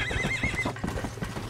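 A horse in the video game Red Dead Redemption whinnies with a wavering, high-pitched call over busy game background noise and a steady low hum.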